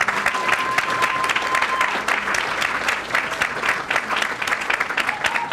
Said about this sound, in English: Big round of applause for those people.